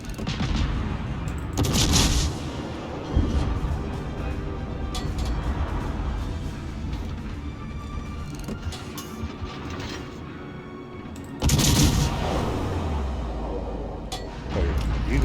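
Naval gunfire from 5 or 6 inch guns in World of Warships, booming salvos at a high rate of fire over a rumbling mechanical background, with two especially loud blasts standing out.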